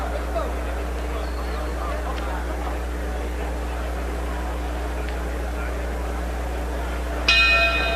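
A boxing bell signals the start of round three at a professional bout, Floyd Mayweather versus Larry O'Shields: one bright ringing strike near the end, heard over a steady low arena murmur and hum.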